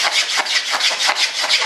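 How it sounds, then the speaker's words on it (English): Steady rhythmic scraping, a blade or rasp dragged back and forth over a model airplane's hard finish in repeated even strokes, close and loud. "just scrape the whole thing"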